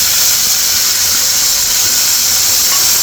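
Finely chopped tomatoes hitting hot oil in a frying pan give a loud, steady sizzle, a continuous bright hiss that holds evenly throughout with no voices.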